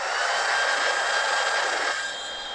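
A hair dryer blows steadily on wet paint, giving a loud, even airy whoosh with a thin high whine that softens slightly near the end.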